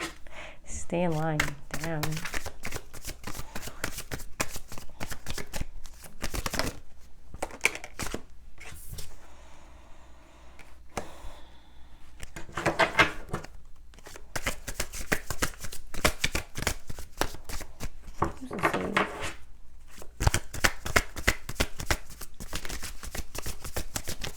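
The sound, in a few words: shuffling playing cards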